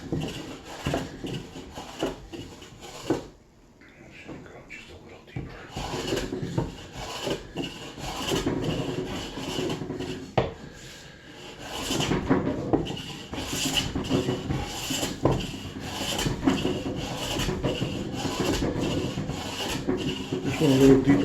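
A small Bailey hand plane rasps along a timber-framed table base, repeated scraping strokes close up with a brief pause near the start, then steady back-and-forth passes.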